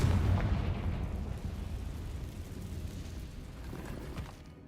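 A Confringo spell blast in a Harry Potter video game erupts as one loud, deep rumbling explosion right at the start, then rolls into a long, dense, roaring tail that slowly fades with no speech.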